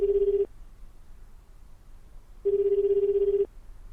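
Telephone ringing with no answer in the video game 428 Shibuya Scramble: two electronic rings, each about a second long, separated by a two-second pause, clear and close.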